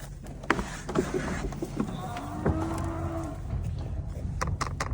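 Cattle being unloaded from a livestock trailer give a drawn-out moo over a background of clattering hooves and knocking on the trailer floor.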